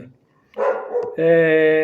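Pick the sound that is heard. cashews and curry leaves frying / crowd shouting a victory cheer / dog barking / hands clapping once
dog barking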